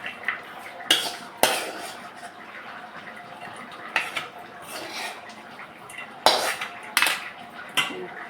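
Metal utensils clink and clatter against a steel bowl in a home kitchen as a finished tadka of chana powder and chilli is moved into it, with sharp irregular knocks spaced over several seconds and no talking.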